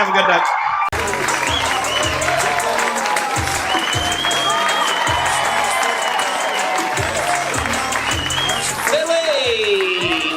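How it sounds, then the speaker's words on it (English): Audience applause and cheering at a John Crist stand-up comedy show, a loud sustained crowd clapping over pulsing walk-on music with scattered whoops. "Have a round of applause for him"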